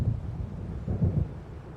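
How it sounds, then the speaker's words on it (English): Low, rolling rumble of thunder from an approaching storm in the video game Alan Wake, swelling twice over a couple of seconds with no voices. "It seems there's a storm coming."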